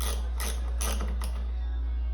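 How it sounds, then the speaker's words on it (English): A short 1/4-inch ratchet tightens hardware into the fiberglass of a 2003 Electra Glide sidecar, making four quick bursts of close, crisp clicking in an even rhythm. "I'm using a short 1/4 inch ratchet, and I'm not putting a whole lot of torque on this yet."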